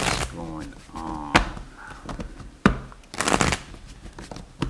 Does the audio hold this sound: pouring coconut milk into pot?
no